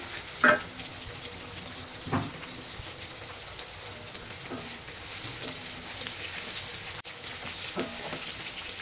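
Dried red chillies fry in hot oil in a pan, giving a steady soft sizzle with a few brief louder pops and crackles scattered through it.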